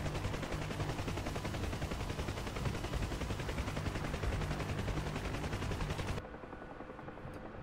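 Sustained rapid door-gun fire from a Huey helicopter in the DCS flight simulator, a dense continuous burst over rotor and engine noise that stops abruptly near the end, leaving quieter cockpit drone.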